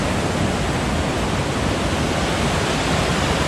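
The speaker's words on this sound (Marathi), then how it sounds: "तिथे पण 2 झरे आहेत आणि पाणी असं वाहत येतं इथे." Water from two streams pours steadily into a natural rock pool near Lonavla, a dense, continuous rushing roar with no breaks and no voices.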